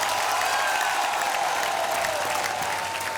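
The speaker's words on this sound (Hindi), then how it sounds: "तालियां।" Loud, dense clapping from a studio audience on the Hindi game show Dus Ka Dum with Salman Khan, a continuous wall of applause at steady volume throughout with no voices above it.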